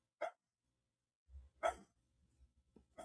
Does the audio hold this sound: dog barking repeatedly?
yes